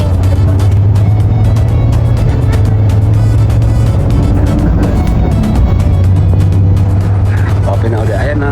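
Cars crawl through traffic at the SLEX exit in Manila, a loud, continuous hum of engines and passing vehicles close by, with talking mixed in.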